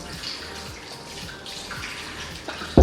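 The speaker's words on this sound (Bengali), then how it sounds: "জলের বোতলগুলো ভরতে হবে, জলের বোতলগুলো এখনো ভরা হয়নি।" Water bottles are filled from a running tap at home, giving a soft, continuous gush and splash of flowing water at moderate distance, ending in a sudden louder knock.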